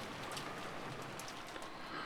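Rain falls steadily in a visual novel scene, a dense even hiss of drops with faint patters on top, quiet and unbroken, no voices.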